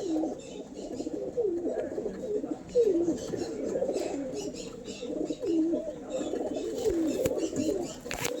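Kalanka pigeons coo repeatedly at close range in a home loft, the soft rolling calls recurring every second or two over a steady background of other birds.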